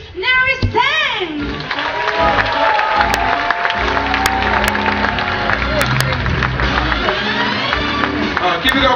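A cruise ship audience applauds and cheers for the host in a dense, steady wash of clapping and crowd noise, while a voice talks and whoops over it near the start.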